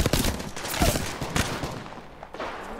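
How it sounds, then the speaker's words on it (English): Video game shotgun fire blasts in a quick run of loud, sharp shots, close and punchy, fading to quieter game noise toward the end. "he hit you with a shotgun"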